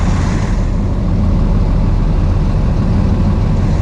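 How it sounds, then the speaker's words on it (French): A vehicle engine runs steady and loud at low revs after being put in neutral, a constant idling rumble with no talk over it. "Nos révolutions moteurs ont diminué"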